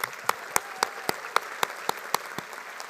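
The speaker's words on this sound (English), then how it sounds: "give yourselves one more hearty round of applause" A graduation crowd at an engineering school commencement gives a brief round of applause, heard as sparse, evenly spaced sharp claps standing out over a quiet hall.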